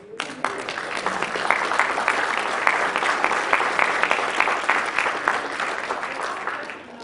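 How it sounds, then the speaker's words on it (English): Sustained audience applause at a panel discussion on the art history of games, a dense wash of many hands clapping that swells quickly, holds steady for several seconds, then fades toward the end, with no talking over it. "you deserve a tremendous round of applause for that"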